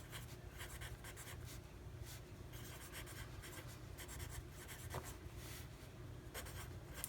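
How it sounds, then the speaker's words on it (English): A pen scratching out a handwritten to-do list on paper, quiet and close, in a steady run of short strokes with small pauses between words, no talking. "So I'm just going to write them in here."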